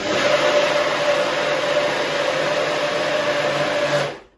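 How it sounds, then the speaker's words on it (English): NutriBullet blender blitzing wild garlic soup, a loud steady motor whine held for about four seconds before cutting off abruptly. "I blitz it up in my NutriBullet"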